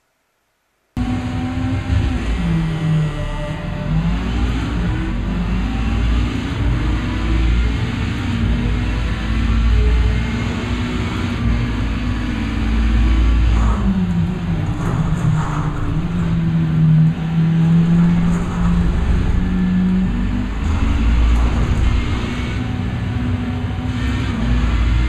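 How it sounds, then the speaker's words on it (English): Touring car engine in a racing video game, a loud continuous drone that rises and falls through gear changes over several laps, with no talk over it. "racing in the touring cars again"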